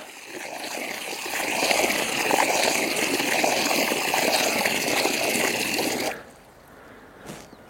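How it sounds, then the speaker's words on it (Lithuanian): Steady splashing water pours continuously for about six seconds, then stops abruptly, leaving quiet outdoor ambience with one brief faint noise. "reikia varyti vandens į žemę"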